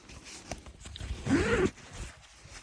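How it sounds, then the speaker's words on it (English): A Line 1 Gear windcheater jacket's large pit zip is pulled once, a brief close rasping run of the zipper against light handling noise. "Very large pit zips."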